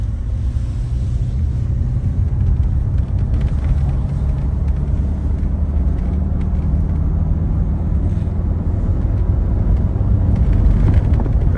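A 1993 Mercedes W126 500SE accelerating into traffic, heard from inside the cabin: a loud, continuous low engine rumble and road drone that holds steady and builds slightly toward the end, with no voices.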